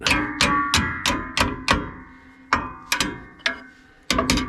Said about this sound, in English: Then I used the hammer and tapped it.